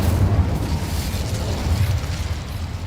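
The Incendio fire spell in Hogwarts Legacy erupts as a heavy, sustained booming roar of flame, loud and low with rolling bursts throughout.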